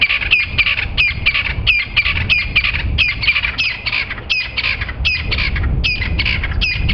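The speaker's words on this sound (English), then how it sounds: "There was this Crested Franklin were calling to their heart's content, being very loud next to the road." Crested francolins call loudly beside a road at dawn, a rapid series of harsh repeated squawking notes running steadily throughout, close and prominent.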